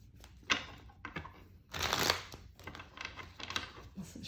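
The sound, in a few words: shuffling tarot cards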